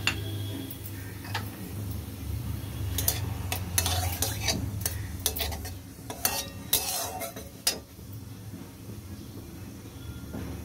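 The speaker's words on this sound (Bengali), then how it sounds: "তেল বসিয়ে তেলটা গরমও হয়ে গেছে, আমি দিয়ে দেবো গোটা জিরে।" Whole cumin seeds sizzle in hot oil in a pan, a moderate crackling fry punctuated by repeated clinks and scrapes of a spoon stirring against the pan.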